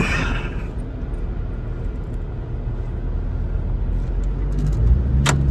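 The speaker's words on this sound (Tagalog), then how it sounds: "Hindi namin alam kung makalusot yung sasakyan namin." A car noses into deep floodwater, its engine a steady loud rumble under broad churning wash, with a brief sharper splash or hiss near the end.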